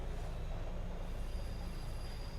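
A running subway train gives a steady low rumble and hum with faint high tonal whine, continuous and even, with no talking.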